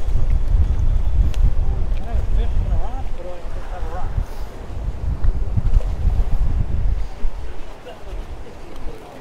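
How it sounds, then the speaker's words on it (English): Gusty wind buffets the microphone on a fishing boat out at sea, a loud continuous low rumble with people talking over it. "It's the wind."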